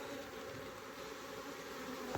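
Dense, steady buzzing of many honey bees in an opened hive, a continuous close drone with no voices.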